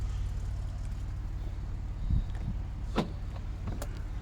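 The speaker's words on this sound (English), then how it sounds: "It's the power assisted boot opening" Powered tailgate of a car with rear parking sensors and a detachable tow ball whirring open, a steady motor drone with a thump near the end of travel, close by.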